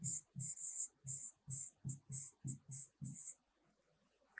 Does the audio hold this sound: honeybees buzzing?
no